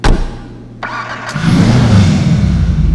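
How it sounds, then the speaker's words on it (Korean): In a video game, a Karin Sultan Classic starts up and its engine exhaust settles into a loud, resonant, booming idle after a couple of short clicks and a brief catch. "배기 같은 경우는 뭔가 좀 울리는 느낌이 있군요"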